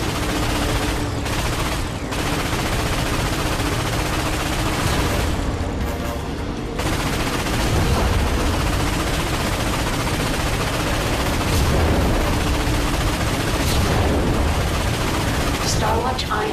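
Loud, sustained weapon fire from the Starwatch ion cannon in Ratchet and Clank on PS4, rapid bursts and booms overlapping continuously without a break.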